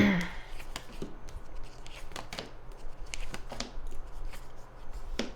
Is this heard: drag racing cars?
no